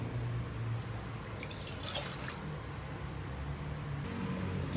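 A cup of water is poured into a stainless steel pot beside a Sterno folding stove, giving a short, close splash and trickle in the middle of an otherwise quiet stretch with low background hum.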